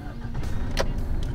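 A 2022 Isuzu MU-X 1.9-litre diesel 4x4 with automatic transmission starts up, its low engine rumble steady and close, heard from inside the cabin.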